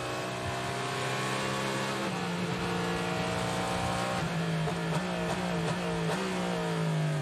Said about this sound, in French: Ah, et vraiment en moteur la Acura ils ouvrent tout en grand.